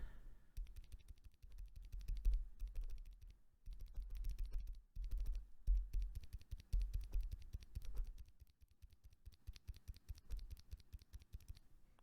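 Mechanical keyboard switches, Zealios, Zilents and linears, pressed on a switch tester, giving dense bursts of rapid clacking keystrokes in uneven runs with short pauses, close and moderately loud, no talk.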